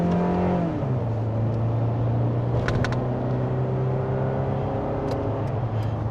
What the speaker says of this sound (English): Heavy on the throttle and match the speed of vehicles beside you.